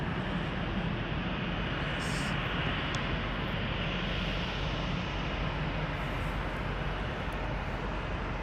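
KLM airliner passing at Toronto Pearson airport, a loud, steady broadband jet roar that fills the whole stretch without letup, close and continuous.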